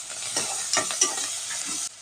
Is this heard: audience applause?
no